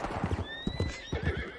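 Horse in a Wild West video game, quick galloping hoofbeats with a high whinny over them, short and fairly close, no talk heard.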